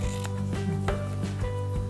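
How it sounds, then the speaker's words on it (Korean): Scissors snip the corners of sewn fabric for a child's summer dress, producing a few faint, short cuts over a steady tonal background. "봉제가 끝났으면 모서리 부분을 살짝 가위로"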